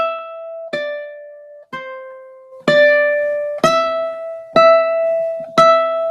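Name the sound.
dramatic rubato rendition of Mary Had a Little Lamb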